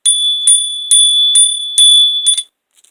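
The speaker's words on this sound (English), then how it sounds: "Let me hit the bell." A bright, ringing bell is struck about six times at a steady half-second rhythm, loud and close, each tone lingering before the sound stops.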